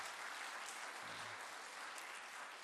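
Steady applause from a church congregation during a Sunday service, a continuous even clatter of clapping throughout with no voices.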